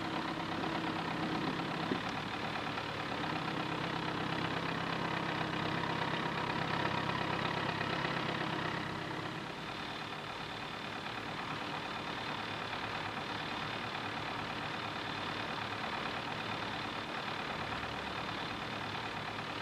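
A David Brown 1200 tractor engine running steadily at a constant rumbling pitch, the tone shifting slightly partway through, heard alone at a moderate level without talk.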